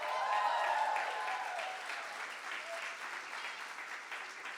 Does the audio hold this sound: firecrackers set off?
no